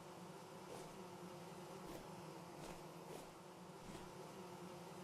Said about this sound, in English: I hear you, bees.